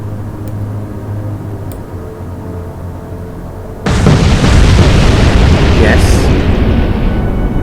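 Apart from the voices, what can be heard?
explosions of torpedoes sinking the ship Maori in the video game Atlantic Fleet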